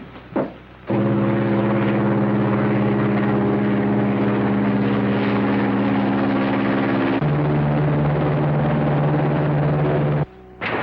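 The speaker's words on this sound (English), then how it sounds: "Perhaps he's taken the light plane up for a little spin to try something out." A light propeller plane drones steadily overhead, a loud close engine hum with a shift in pitch partway through, with no talk over it.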